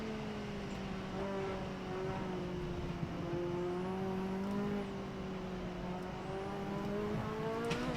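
A race car engine in Assetto Corsa holds a sustained, buzzy whine whose pitch slowly dips and climbs as it revs through the corners, steady and moderately quiet throughout.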